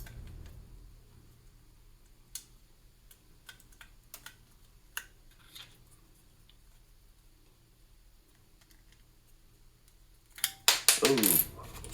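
Keycaps pushed onto a shieldXL norns clone keyboard build, scattered soft clicks and ticks spread over quiet stretches, then a cluster of louder plastic clacks and rattles near the end, close up and alone.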